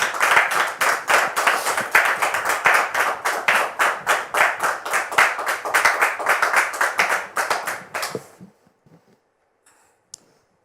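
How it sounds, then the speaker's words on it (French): A studio audience at a television show claps in rhythmic unison for about eight seconds, loud and close, then the clapping stops abruptly, leaving near silence with one faint click. "sous vos applaudissements"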